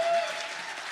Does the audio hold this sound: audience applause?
yes